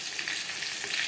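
Potato pieces fry in oil in a pan for rui fish curry, giving a steady, even hiss heard close up with no talking, lasting only about a second.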